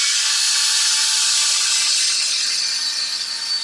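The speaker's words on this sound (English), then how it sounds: "We're gonna take off the 4 screws on this guy." Screws come out of an Arrma Vendetta RC car during a servo swap, with a loud, steady whirring, ratcheting hiss that runs unbroken through the whole stretch and no voices.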